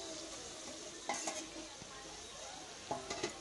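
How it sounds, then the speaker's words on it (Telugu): Goat tripe (boti) sizzles in hot tempering oil in a pan for a Telangana-style curry, with a steady frying hiss and two brief bursts of stirring and utensil clinks against the pan. "కేజీ బోటీని తాలింపులో వేసుకోవాలి"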